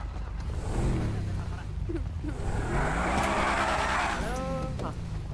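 A car in a roleplay video game starts up and drives, its engine revving in a steady drone with a rising whine near the end, while voices talk over it.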